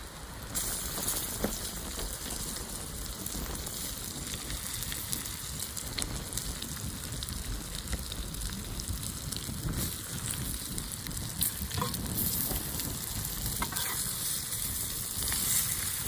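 Lolya river fish cook in a watery onion masala with chili powder and turmeric on a griddle, giving a continuous close frying sizzle and bubbling with occasional stirring, without voices.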